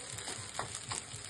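Sabudana khichdi being sautéed in a pan with chilli and ghee, a soft, close sizzle with light scraping stirs as the pearls are turned over.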